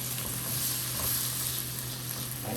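Garlic sautés in a pan for Pad Thai, giving a soft, steady sizzle with a faint constant hum beneath it.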